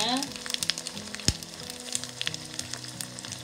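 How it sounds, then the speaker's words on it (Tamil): Tomatoes sizzle and crackle in a hot pan for Sri Lankan chicken curry, a steady close frying hiss with scattered pops and a sharp clink of a spoon midway. "தக்காளிக்கெல்லாம் போட்டோம் வதங்கட்டும் அவ்வளோ வதங்கட்டும்"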